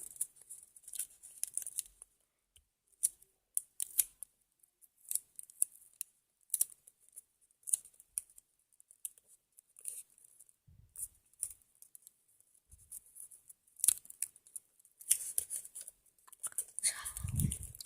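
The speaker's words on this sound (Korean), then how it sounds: "테이프로 사이를 고정해 줍니다" Quiet, close crinkling and snipping sounds come in irregular bursts as adhesive tape is pulled, torn and pressed down to secure parts of a homemade toy shotgun, with faint handling noises between.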